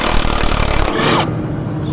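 An impact wrench with a socket on a fluid truck during an air system repair rattles loudly and steadily, a dense mechanical buzz that quietens into a lower hum near the end.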